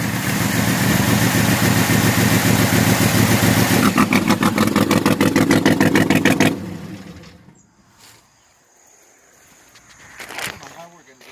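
A newly assembled L78 396 V8 runs loud and close after its first start with a rough, pulsing rumble, then the engine note drops away to quiet, leaving faint clanks and movement.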